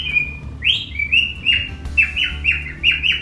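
A pet bird chirps in a quick run of bright, repeated tweets and short trills, close and clear over a low indoor hum, with no talking.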